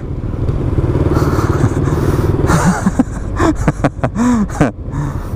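Motorcycle ridden by a new rider, engine running steadily and close before faltering into uneven revs, clatter and thumps, with no talk over it.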